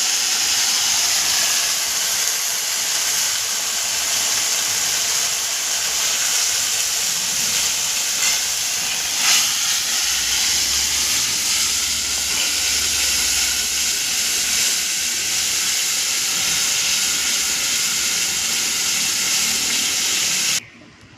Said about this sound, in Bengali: বাটি দিয়ে জলটা দিয়ে দিই।